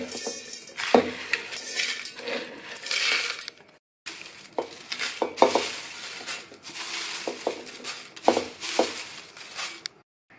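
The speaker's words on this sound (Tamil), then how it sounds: "எல்லாத்தையும் மிக்ஸி ஜாரில் சேர்த்துடலாம்" Roasted lentils, dried chillies and curry leaves tipped into a dry mixer jar for a podi spice powder, giving a close run of clinking, rattling and scraping against metal, with a short break midway and sharp taps throughout.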